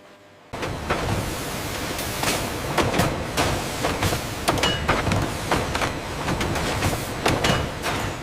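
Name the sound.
candy bag sealing machine clamping and cutting bags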